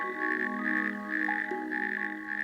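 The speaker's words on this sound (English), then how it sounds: "natterjack toads vociferously court the females. Their calls resound for up to 2 kilometers." Chorus of natterjack toads calling in a German breeding pond, a loud, continuous rolling trill from several animals overlapping without pause.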